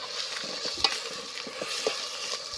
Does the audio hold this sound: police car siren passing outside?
no